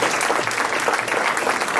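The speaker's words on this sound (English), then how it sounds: "let's give them a round of applause" An audience applauds at a motivational speech event, a dense, steady roar of many hands clapping together, filling the room evenly from start to finish.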